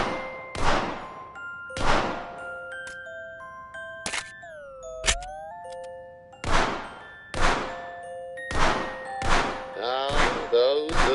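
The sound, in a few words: shots hitting targets in VR game The American Dream target practice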